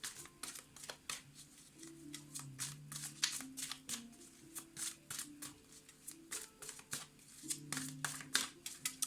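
Tarot cards shuffled by hand for a Sagittarius reading, a steady run of soft crisp riffles and flicks close up, quiet and continuous, with no talking.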